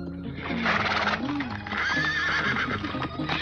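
A horse neighs and whinnies loudly and close in a Turkish film scene, its calls rising and wavering over clopping hooves and busy background sound throughout.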